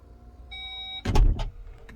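The power liftgate of a 2022 VW Atlas 3.6 SEL Premium R-Line closes: a brief high electric motor whine, then a solid low thud as the gate latches shut, close by.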